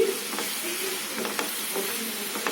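Spoon stirring chili powder, garam masala and coriander powder into a brinjal (eggplant) curry in a hot pan, with a steady low sizzle and soft scraping strokes repeating every second or so, fairly close.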